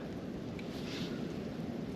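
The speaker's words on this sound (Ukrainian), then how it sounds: "Вітер шквальний." Strong wind roars continuously against the microphone, a dense low rumble with a slight rising gust in the middle.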